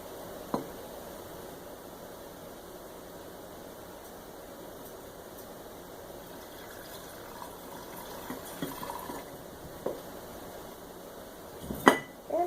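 Natural sun-tea dye liquid poured into a container, a faint, steady trickle with a few small clinks and a brief louder splash near the end.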